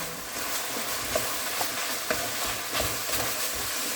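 Food sizzles steadily in a hot pan while a spoon stirs it now and then, the frying hiss continuous and close, with a few soft clinks of the utensil against the pan and no talking.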